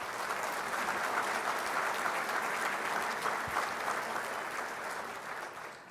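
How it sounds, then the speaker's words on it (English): Sustained audience applause at an aviation hall of fame induction banquet, a dense steady clapping from a room full of people that holds loud and fades slightly at the end. "Please give a round of applause to our sponsors tonight."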